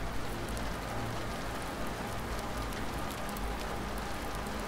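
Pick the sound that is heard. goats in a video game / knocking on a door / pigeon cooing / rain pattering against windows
rain pattering against windows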